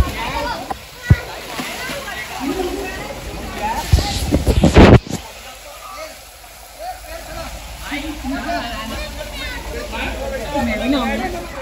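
People bathing and splashing in water outdoors on a vacation, with scattered splashes and one loud burst midway, under ongoing chatter and voices throughout.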